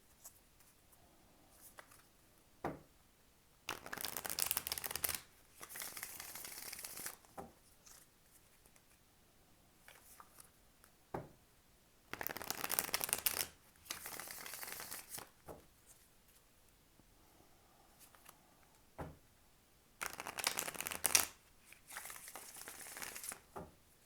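A tarot deck being shuffled in three separate bursts of riffling and crinkling card noise, close and fairly soft, with quiet pauses between.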